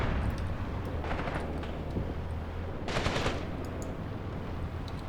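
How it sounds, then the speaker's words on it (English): Field guns in Graviteam Tactics fire at advancing tanks, heard as two dense, crackling bursts of gunfire over a steady low rumble. "All three guns are now shooting at the tanks that are advancing across the open"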